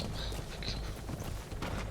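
Horse hooves clip-clopping in the video game Metal Gear Solid V: The Phantom Pain, a quick run of soft thuds over game ambience and a faint background rumble, about two seconds long.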